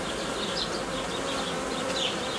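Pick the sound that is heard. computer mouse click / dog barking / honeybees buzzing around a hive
honeybees buzzing around a hive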